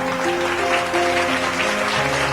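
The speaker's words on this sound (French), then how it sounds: "On acclame pour Jésus." Congregation applauding for Jesus at a church service, steady dense clapping filling the whole moment at even loudness, with no voices over it.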